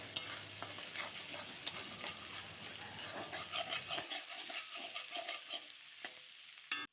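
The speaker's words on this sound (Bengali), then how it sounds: "নাড়াচাড়া করতে থাকতে হবে যাতে করে কড়াইতে না লেগে যায়" Spices and turmeric sizzle in a hot wok while a spoon stirs and scrapes in an irregular rhythm, with meat and fried onion in the dish; the frying stays steady and close, with sharper clinks toward the end.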